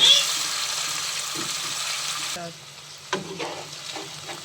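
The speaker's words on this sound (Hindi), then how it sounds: "अब हम इसमें ऐड कर देंगे टमाटर और साथ ही 2-3 चम्मच दही भी ऐड कर देंगे। और अब हम इसको 2-3 मिनट के लिए भून लेंगे।" Tomatoes and yogurt fry with garlic and ginger in a pan, a loud, close hiss that drops off after a couple of seconds into quieter sizzling with spoon scrapes and stirring, and faint voices in the background.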